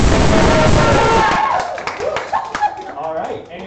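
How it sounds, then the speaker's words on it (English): A live game show audience applauds loudly at first after a dance-off, then the clapping fades into scattered claps and murmuring crowd voices. "give him a round of applause"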